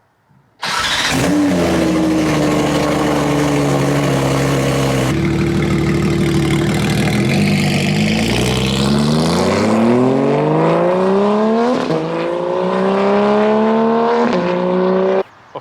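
A Porsche 911 GT3 of the 992 generation fires up loudly with its flat-six engine, then idles with a steady rumble before revving hard through several rising and falling sweeps, its loud exhaust close and dominant throughout.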